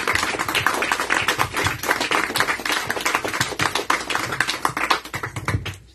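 A crowd at a book presentation applauds, many hands clapping in a dense, steady, close patter that lasts the whole time without a break.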